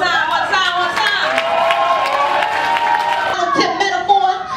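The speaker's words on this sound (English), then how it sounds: "clap it up for yourselves one time, one time, one time" An audience at a live rap battle applauds and cheers steadily, with dense clapping and crowd noise holding loud and even for several seconds before easing slightly near the end.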